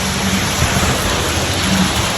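Steady rain falls outside while plastering work goes on indoors, an even, dense hiss with no breaks and a faint low rumble beneath it, with no talking.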